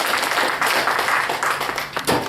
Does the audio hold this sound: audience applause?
yes